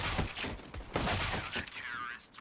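Rapid gunfire rings out in a Counter-Strike: Global Offensive match on the Train map, with dense overlapping bursts of shots that are loud and continuous and fade near the end.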